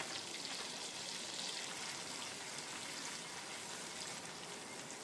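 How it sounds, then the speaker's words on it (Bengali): Ginger paste sizzling in hot oil in a pan for a Bengali rui fish curry with tomato, a steady soft crackling hiss that stays even and fairly quiet throughout. "আদাটা যতক্ষণ কাঁচা গন্ধ না যায় ততক্ষণ আমি একটু আদাটা ভেজে নেব"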